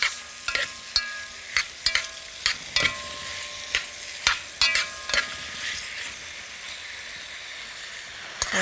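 Onions frying in a pan while being stirred, sharp repeated scraping clicks of a utensil over a bright steady sizzle, close by, the stirring easing off toward the end with no voices.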